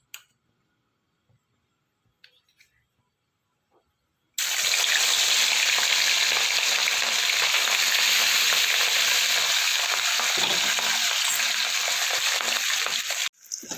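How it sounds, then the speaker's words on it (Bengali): After a few seconds of near silence with faint taps, marinated fish lands in hot oil and sets off a sudden, loud, sustained sizzle that crackles steadily for about nine seconds, then cuts off. "এবার আমি ভেজে নেবো একটা করে।"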